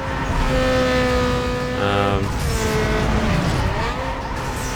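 Race cars in the video game Need for Speed Underground 2, engines droning and rising in pitch as tires squeal and skid, continuous and fairly loud.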